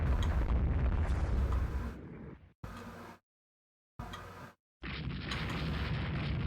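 Naval gunfire and shell explosions in the video game Rule the Waves 2, heavy rumbling booms that cut off abruptly into silence, then short bursts and a final sustained roar of battle.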